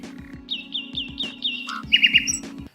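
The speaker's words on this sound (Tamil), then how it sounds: "நம் நாட்டு பறவைகள் மட்டும் இல்லாமல் வெளிநாட்டு பறவைகளும் இங்கே பல வருகிறது" Local and migratory birds at a wetland call in a busy mix of repeated chirps, tweets and squawks, with rhythmic calls over a steady hum of other birds, fairly close and loud.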